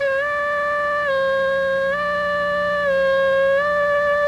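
A harmonica note bent cleanly down and back up several times, each drop in pitch smooth and deliberate, played close and steady for about four seconds without any talking.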